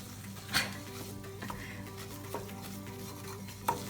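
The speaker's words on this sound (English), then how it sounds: "Keep stirring so it doesn't catch on the bottom" A sauce in a pot is stirred to keep it from catching on the bottom, with soft scraping and a few light clinks of the utensil against the pot over a low steady background.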